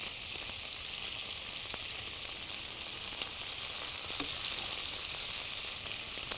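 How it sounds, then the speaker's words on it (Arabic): Shrimp fry in a spicy sauce, the pieces turned one at a time, giving a steady, close sizzle that runs unbroken with faint clicks now and then. "واروح اقلب الجمبري واحده واحده"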